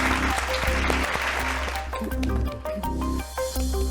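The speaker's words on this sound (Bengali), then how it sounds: "2 পয়েন্টস দেবজিতের জন্য, জোরে হাততালি" A game show studio audience applauds loudly and continuously, clapping thickly over music with a few voices mixed in.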